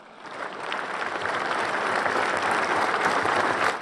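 An audience applauds Nelson Mandela's speech with dense, sustained clapping that swells slightly and holds steady for several seconds, with no voices over it.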